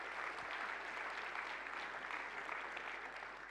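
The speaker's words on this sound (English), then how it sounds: "So you clap" Steady, dense applause from a large conference keynote audience, sustained at an even level throughout with no voices standing out above it.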